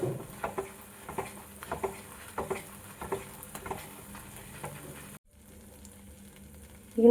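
A thick bread halwa mixture bubbles and pops in a pan, soft irregular plops and sizzles close by, then a brief hush before a louder clatter at the end.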